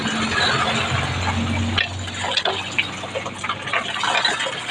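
Water pours into a dog's bath tub with a steady, nearby splashing fill and a few light clinks, with no voices over it.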